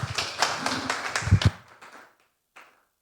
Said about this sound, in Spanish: Por favor, un fuerte aplauso, sean todos bienvenidos.